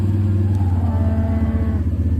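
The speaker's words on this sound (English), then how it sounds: "Got a couple cows going downhill." Cattle low in a grassy pasture as a couple of cows head downhill, a deep steady drone with faint overtones, near and continuous, no talk.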